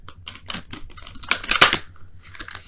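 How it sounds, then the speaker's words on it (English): A deck of tarot cards shuffled by hand for a love reading: a run of crisp papery riffles and snaps in uneven bursts, close and fairly loud, with no talking. "let me go ahead and quickly shuffle these for your romance angels of the week"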